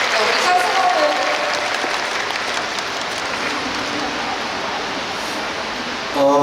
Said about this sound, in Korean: 박정우 배우님께 박수 부탁드리고요.